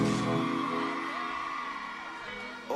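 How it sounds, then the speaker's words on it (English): A concert crowd of women at a reggae show screams and whoops together, a dense sustained roar of high voices at moderate distance that fades slightly over a few seconds. "All my beautiful ladies, can you scream for me, please?"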